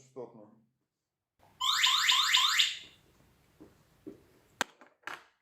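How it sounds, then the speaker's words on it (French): A radio-frequency anti-theft EAS security tag sounds its alarm after its cable is cut: a loud, close, warbling electronic beep of about one second, followed by faint clicks and handling taps. "Lorsque nous coupons le câble, cette étiquette commence à déclencher une alarme."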